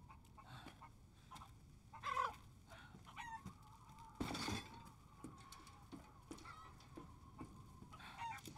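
Chickens cluck and squawk in short, scattered bursts around a village farmyard in Resident Evil Village, with a couple of louder squawks over a low ambient background.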